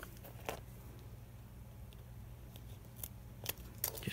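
Scissors snip through fun foam sheet in a quiet room, several short crisp cuts spaced irregularly with a quick cluster near the end, close and fairly soft, no talking.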